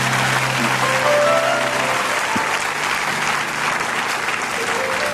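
Applause from a church audience at a worship service fills the space with dense, steady clapping that holds at an even level throughout, with a faint voice briefly audible beneath it.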